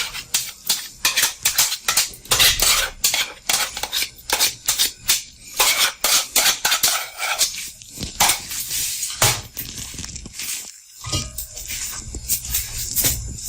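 Rapid repeated scraping and knocking of a spoon in a pot as yogurt is mixed into zarda rice and water, loud and close, a busy irregular rhythm of stirring strokes.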